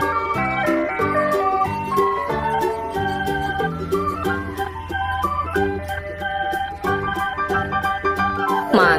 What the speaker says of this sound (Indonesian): Widih, widih, mobil es krim teman-teman.